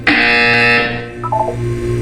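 A loud electronic buzzer in the video game Portal 2 blares for under a second, then cuts off, followed by a short descending tonal blip.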